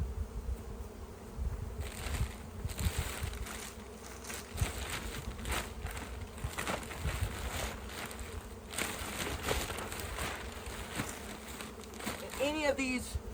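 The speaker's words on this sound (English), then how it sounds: "we have a whole bunch of bees here in the back of the Ranger" A dense swarm of bees buzzes steadily and close by in the back of a utility vehicle, a continuous droning hum with occasional soft knocks and rustles.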